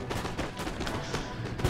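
Rapid musket gunfire in Empire: Total War, a steady crackle of many overlapping shots with no clear pauses, at moderate loudness.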